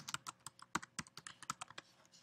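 Rapid, uneven clicks of keys being typed on a computer keyboard, close and crisp, a short burst of keystrokes with no talking.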